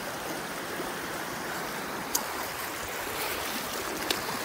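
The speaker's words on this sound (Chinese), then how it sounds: "哇呀，这浪太大了" Heavy sea surf washes over a rocky shore at low tide, a steady broad roar of breaking waves with a couple of brief splashes, heard alone with no voices.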